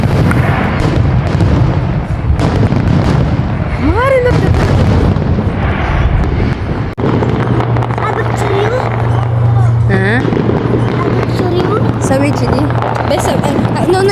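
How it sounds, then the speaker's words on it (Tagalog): Repeated booming fireworks bursts echo through a busy outdoor scene in Abu Dhabi, with people talking loudly throughout and a low hum running beneath. "ito na nga yung fireworks to the max"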